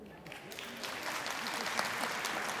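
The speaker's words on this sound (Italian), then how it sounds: "Se vi è piaciuto lui, applauso per lui." A theatre audience applauds a single performer during a Christmas comedy show at the Petruzzelli theatre, with a steady wash of clapping from many hands that builds slightly over a couple of seconds.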